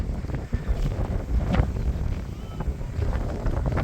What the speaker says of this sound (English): Sorry about the wind, it is very windy today.